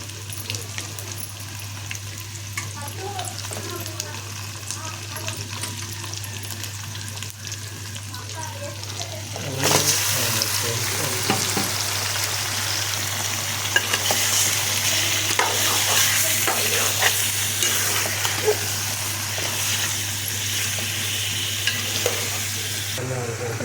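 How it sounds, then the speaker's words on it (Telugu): Fish pieces fry in hot oil and get stirred in a pan. A steady close sizzle swells louder partway through and keeps going under scraping stir strokes, with a constant low hum underneath. "ఇప్పుడు చేపలు మొత్తం నూనెలో వేసి కలిపిన"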